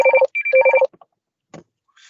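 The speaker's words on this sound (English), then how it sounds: "Excuse my phone." A phone rings loudly and close in two electronic trilling bursts, followed by a short rustle and faint noise in an otherwise quiet council meeting room.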